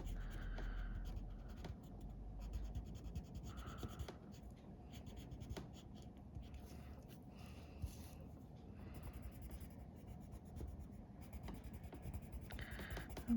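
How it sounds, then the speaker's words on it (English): Pencil crayons rub back and forth across a card in quick, steady scratchy strokes, close and quiet, with brief pauses between bursts of coloring. "we're just coloring in nicely. Just go back and forth"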